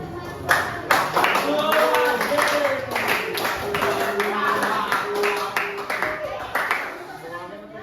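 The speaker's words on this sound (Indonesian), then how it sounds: "Tepuk tangan." Audience at a school counselling workshop clapping, a loud run of scattered hand claps lasting several seconds with voices talking and calling out over them.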